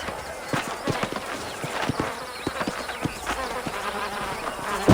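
Horse hooves in the video game Red Dead Redemption, a herd outside Armadillo, with uneven clip-clop beats over a buzzing ambient game background.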